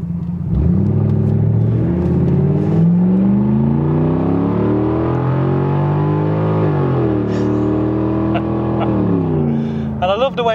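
A Jaguar XJ8 engine pulls hard as the car accelerates, its rising tone dropping and climbing again through smooth gear changes; loud and close throughout, with a person talking over it.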